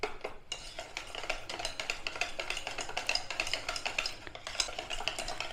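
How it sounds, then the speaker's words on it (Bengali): A spoon or whisk stirs cake batter with sugar in a bowl for palm fruit cake, steady rhythmic scraping and light clinks against the bowl, close and continuous with no talk. "ভালো করে মিশিয়ে নিলাম।"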